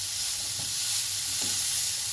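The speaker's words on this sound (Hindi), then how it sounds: "इनको इसी तरह ही सिर्फ सौते कर रही हूँ।" Carrots sautéing in a pan for Kabuli pulao give a steady close sizzle, with two soft stirring scrapes breaking through the hiss.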